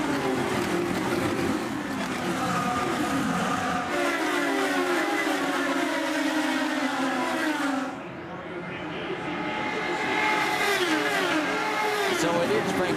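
IndyCar race cars accelerate on a restart at the Milwaukee Mile oval, a dense, continuous high-pitched engine wail with rising pitch sweeps from several cars, fairly distant, briefly dipping before swelling again.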